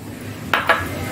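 Two quick, bright clinks sound close by as karonda berries drop into a mixer jar, alone against a quiet kitchen background.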